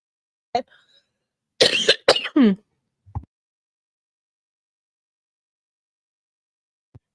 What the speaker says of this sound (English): Huge cough.